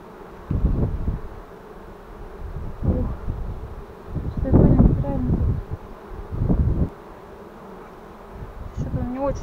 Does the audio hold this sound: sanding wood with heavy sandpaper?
no